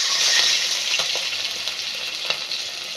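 Water poured into a pan of cumin seeds frying in oil, giving a steady loud sizzle with faint stirring clicks, alone without talk, while cooking a bottle gourd and egg curry.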